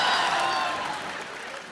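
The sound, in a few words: studio audience applause for the film team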